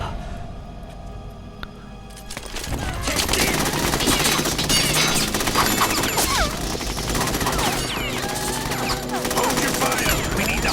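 Sustained gunfire in Metal Gear Solid 2, a quieter opening giving way to loud, dense automatic bursts and clattering impacts that continue without pause, with a voice briefly heard early on.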